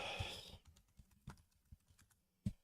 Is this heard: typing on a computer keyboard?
yes